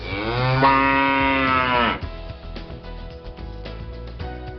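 Cow giving one long, loud, close moo that cuts off abruptly, followed by a low rumbling background.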